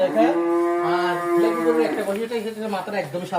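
Fleckvieh cattle on a dairy farm letting out a long, loud, drawn-out moo close by, the call wavering and trailing off toward the end.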